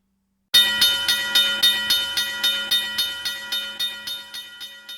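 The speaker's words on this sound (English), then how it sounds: "to let a train pass by" A train rolls past close by at a small rural junction with a steady clickety-clack of wheels on rail joints, repeating in a regular rhythm over a hissing, metallic rumble.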